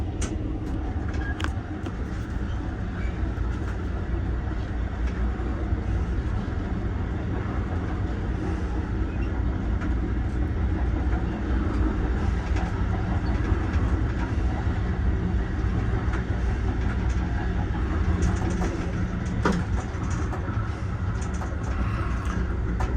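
Continuous loud rumble and roar of an Amtrak Pennsylvanian train passing through a tunnel near Horseshoe Curve, Altoona, steady for the whole stretch with occasional rattles and clanks.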